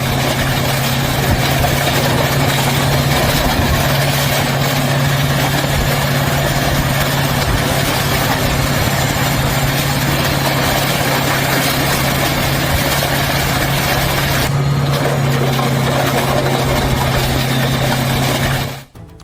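Heavy Poclain excavators roll over rows of seized motorcycles, a loud, steady low engine drone with a constant idling hum throughout and no voices, cutting off abruptly at the end.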